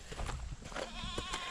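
Goats bleat on a farm where pigs are also kept, a few wavering cries rising over a busy, noisy background of animal and yard sound, fairly close and moderately loud.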